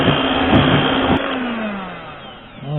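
An electric mixer whips sugar into egg whites for a lemon meringue pie. Its motor gives a steady, close whirring whine that drops in pitch and then rises again near the end.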